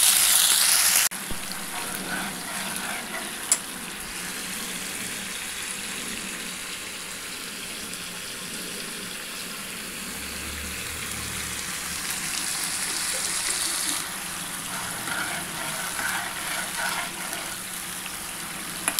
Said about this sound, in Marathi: तेल टाकल्याच्या नंतर आपल्याला प्युरी टाकून द्यायची आहे।